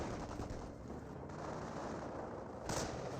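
Steady small-arms and machine-gun fire pours onto German grenadiers in the real-time strategy game Company of Heroes 1, a dense continuous crackle of rapid shots at moderate distance, with a brighter burst near the end and no voices.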